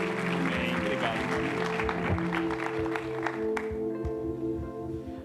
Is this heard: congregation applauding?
yes